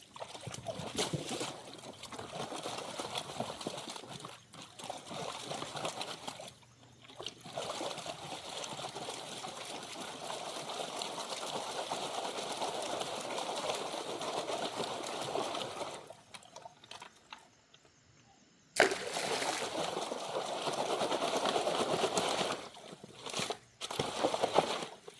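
Water trickles and splashes steadily in a small pool along a creek during gold prospecting, a continuous close babble with brief quieter gaps and a sharper burst near the end.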